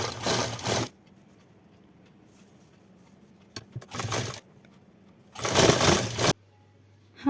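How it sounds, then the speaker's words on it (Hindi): Sewing machine stitching a shoulder seam on a collared garment in three loud bursts of rapid stitching, separated by quiet pauses with faint handling. "अब हम कंधे की सिलाई लगाएंगे।"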